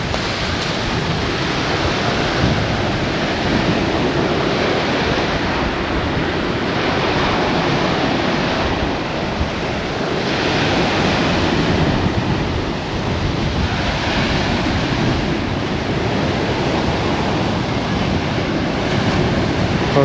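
Sea waves at South Parade Pier in Southsea, Portsmouth, roll in as a continuous loud surf wash with gentle swells, mixed with wind buffeting the microphone and no talking.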